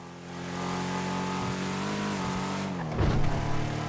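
The Declasse Vamos muscle car in Grand Theft Auto 5 revs loudly and steadily, its engine note climbing and dropping through gear changes, with a brief rougher burst and tire noise near the end.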